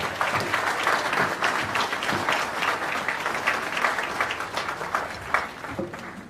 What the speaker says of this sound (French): on l'applaudit bien fort